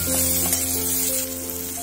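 Egg bharta masala fries in a pan with a steady, close sizzle that runs unbroken and alone, with a faint low hum beneath it.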